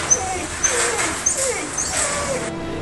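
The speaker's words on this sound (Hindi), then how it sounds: "कुत्ते के रोने की आवाज सुनाई दे रही है।" A dog whimpers and cries near a flooded BSF border post, with repeated high, wavering whines and yelps rising and falling over a steady background rush of water.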